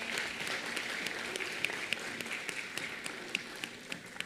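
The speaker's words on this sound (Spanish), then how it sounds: "Un fuerte aplauso." An audience at a dental aesthetics congress awards ceremony applauds an award winner, steady sustained clapping from a crowd with a few sharper individual claps standing out.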